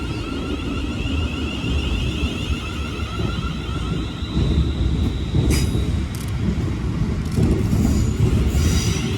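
A British Rail Class 350 passenger train rumbles through a station at close range with steady wheel noise, high metallic squeals and a few sharp clanks, growing slightly louder toward the end.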